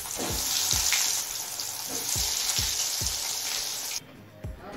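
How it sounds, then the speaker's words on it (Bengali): Vegetable chops sizzle and crackle steadily in hot oil over a low flame, with a few sharp clinks of a utensil against the pan before the frying quiets toward the end. "বাকিগুলো একই রকমভাবে ভেজে নেব"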